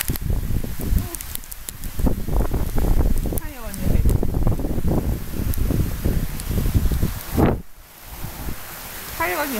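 Hail and sleet pelt down in a January storm in the Midlands, outdoors among horses, making a dense crackling patter and gusty wind noise close to the microphone, with a person talking over it.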